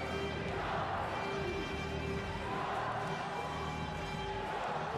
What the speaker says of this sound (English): you can hear the crowd going crazy, and that's because this is the gold medal match